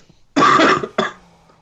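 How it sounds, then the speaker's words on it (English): A man coughs during a podcast recording, one loud harsh cough followed by a shorter second one, close to the microphone with no talk over it. "You're coughing."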